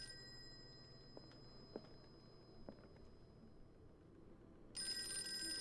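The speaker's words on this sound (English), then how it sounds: "Phone's ringing." An old-fashioned telephone rings in the Call of Cthulhu video game, a faint, steady tone under a quiet ambient hum with a few soft clicks, then a louder, sustained ring near the end.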